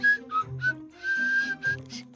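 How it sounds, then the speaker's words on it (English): Mr. Herbert from Family Guy whistles a wavering, breathy tune alone, in short phrases with one longer held note. "he just kept whistling nonstop"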